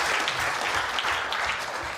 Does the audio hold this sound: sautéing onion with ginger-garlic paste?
no